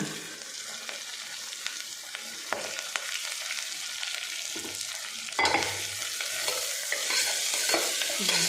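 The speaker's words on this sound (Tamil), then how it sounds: "இது எல்லாத்தையும் நல்லா வதக்கி வச்சுருவோம்" Crushed garlic, coriander leaves and vegetables sauté in a pan for a rice-and-lentil dish, giving a steady close sizzle with stirring scrapes and a few utensil knocks, sharpest near the middle.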